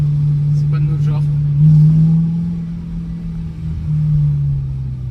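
A BMW M3 E92 engine rumbles and revs among closely packed houses, a loud, steady low drone that swells slightly and echoes, with someone talking over it.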